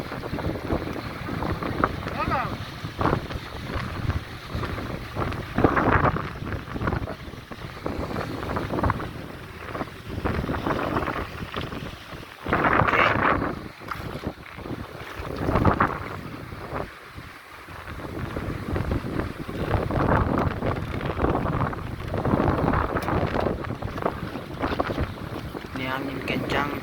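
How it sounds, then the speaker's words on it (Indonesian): Strong wind and big waves batter a small fishing boat at sea: a continuous rough roar of wind on the microphone, with heavy, surging swells of water and hull noise that rise and fall in loud bursts. "Ini angin kencang, ombak besar-besar."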